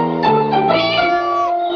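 A cat meows in one drawn-out, clear, close call lasting under two seconds, heard alone with no talk.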